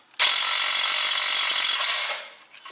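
A ratchet spins out a bolt during a shifter bushing and linkage install, a loud, close burst of rapid mechanical clicking lasting about two seconds before fading.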